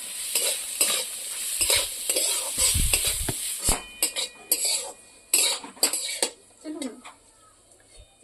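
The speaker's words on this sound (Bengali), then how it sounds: "করলা আলু ভালো করে ভেজে নেব।" Bitter gourd and potatoes fry in a pan, with a soft sizzle under repeated scraping and clinking of a spatula against the metal, strokes coming in irregular bursts at close range.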